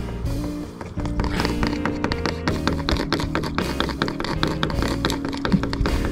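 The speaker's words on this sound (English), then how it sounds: "Are you going to keep knocking all night if I don't give you some more?" An animal knocks repeatedly on the hull of a narrowboat, asking for food: a steady run of sharp, close taps over a constant low hum.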